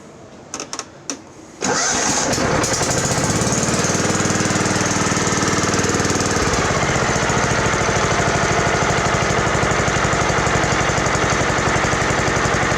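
A vintage John Deere STX30 riding mower engine catches after a few brief cranks and settles into a loud, steady, close idle that holds without pause.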